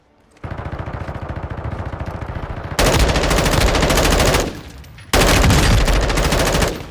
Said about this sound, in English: I started shooting when he came through the door.